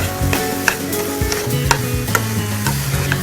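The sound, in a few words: carrots and vegetables frying in desi ghee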